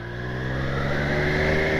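A 2020 Triumph Street Triple S 660 motorcycle, restricted A2 version, runs a close, steady engine note with a sustained even hum that builds slightly in loudness over the short stretch.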